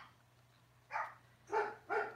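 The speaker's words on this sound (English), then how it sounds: "There goes a puppy." A puppy gives three short, fairly faint barks, spaced about half a second apart, over a quiet indoor background.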